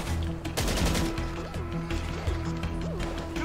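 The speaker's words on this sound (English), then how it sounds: "Who's shooting me?" Gunfire in GTA Online, a dense clatter of rapid shots and sharp impacts over a droning hum, with a few rising and falling tonal swoops cutting through.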